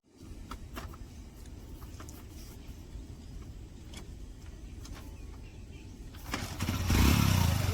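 A new motorcycle's engine at low volume: a faint, rough idle with a few clicks, then a louder burst of revving in the final seconds.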